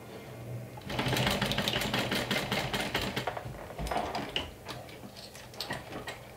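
A sewing machine runs a single line of stitching through waterproof canvas for a crossbody bag, a steady rapid mechanical clatter heard up close and alone, easing slightly toward the end.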